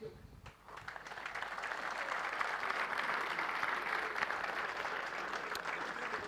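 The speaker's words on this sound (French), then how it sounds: "vais vous demander, s'il vous plaît, d'applaudir" An audience at a Väderstad agricultural equipment presentation bursts into applause after a short quiet start, the dense clapping building quickly and then staying steady and fairly close.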